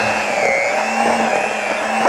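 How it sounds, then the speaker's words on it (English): A regular kitchen blender runs steadily as it shreds cooked pork into pulled pork, a loud, even motor whine with a constant hum close by. "Regular old blender. Makes the perfect pulled pork."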